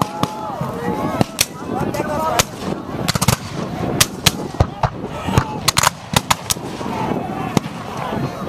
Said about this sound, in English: There goes the Gatling gun.